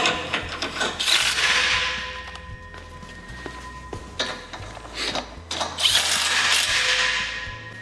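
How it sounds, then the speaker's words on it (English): A rattle gun (impact wrench) tightens the grub screws that lock the handrails on a telescopic tribune, producing loud, close bursts of rapid mechanical hammering that start and stop several times, with no speech. "We use a rattle gun, but they can be done by hand with a ratchet"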